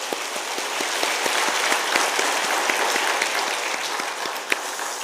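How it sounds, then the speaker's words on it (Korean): Congregation applauding during a Korean church mission society dedication worship service, a steady, dense wash of clapping that holds at even loudness across the whole stretch, with scattered sharper individual claps standing out. "박수하겠습니다"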